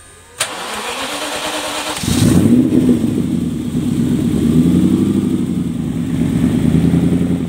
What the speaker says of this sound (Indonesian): setelah muffler terpasang, saya melakukan pengujian mesin guys ya. Coba dengarkan suaranya guys